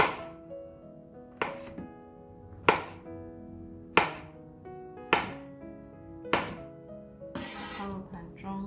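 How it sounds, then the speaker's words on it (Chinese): A knife chops food into strips on a cutting board, about seven sharp, evenly spaced thunks with short ringing decay between them, close and clear with no talking. "把它切成条状"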